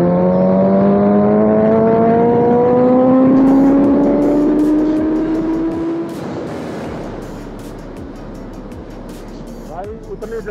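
A Suzuki Hayabusa motorcycle screams up through third gear at high speed, its engine note rising steadily and loudly before easing off, with rushing wind and road noise, and someone talking over it.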